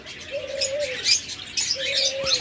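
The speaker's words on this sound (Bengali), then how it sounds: "আমাদের কাছে চার পিস টিম ককাটেল রয়েছে" Several cockatiels chirp and call close by, with a couple of longer whistled notes over steady bright twittering.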